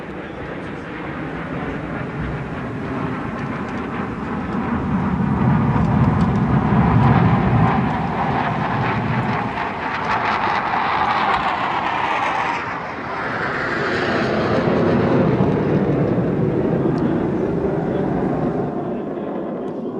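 Fighter jets roar through an aerobatic display of rolls at an air show, a loud sustained engine rumble swelling, briefly dipping, then rising again as the aircraft pass, with a commentator's voice underneath.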